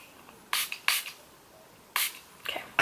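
Maybelline Make It Last setting spray is spritzed in four short, airy hisses grouped in two pairs, close up and alone in a quiet room.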